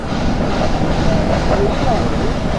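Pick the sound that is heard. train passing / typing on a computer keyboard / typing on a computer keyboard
train passing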